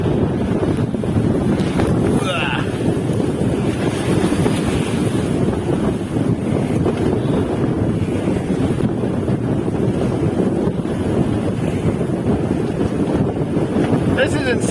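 Sailboat heeled in strong wind on choppy sea, with constant heavy wind buffeting the microphone and waves slapping and rushing against the hull.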